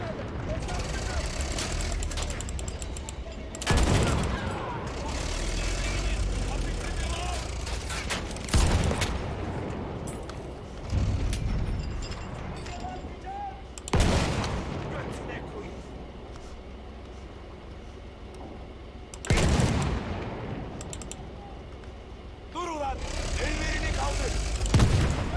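Periodic heavy booming gunshots from a small cannon in the Battlefield 1 campaign video game, each a sharp loud blast every few seconds, over a steady rumbling background, with someone talking throughout.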